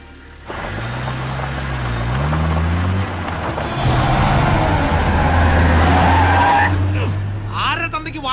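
A car starts off and accelerates hard, its engine revving upward with a tire squeal and loud roar building to a close pass, mixed with dramatic film sound.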